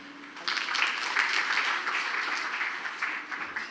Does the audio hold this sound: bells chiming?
no